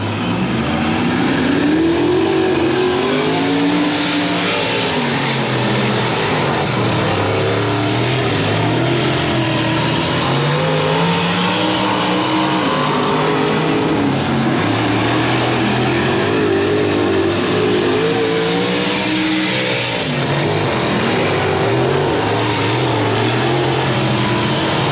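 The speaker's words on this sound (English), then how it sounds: "A good side-by-side battle for the race lead in your wing mod main event." Wing modified race cars roar side by side at Boothill Speedway, engines loud and close with rising and falling revs throughout a sustained, unbroken racing din.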